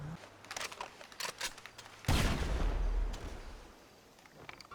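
Gunfire crackles in GTA 5, then a sticky bomb bursts in one loud, deep explosion whose rumble fades over a couple of seconds.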